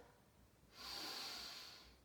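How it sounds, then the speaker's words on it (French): One deep breath drawn in through the nose as part of a children's breathing exercise, a soft rushing inhale that starts after a short quiet pause and holds steady, close and fairly faint. "Je prends ma respiration."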